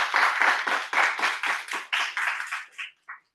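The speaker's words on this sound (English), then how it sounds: "Give a round of applause for him." Audience applause for a speaker at a meeting, a steady burst of clapping that gradually thins out and ends with a few last claps.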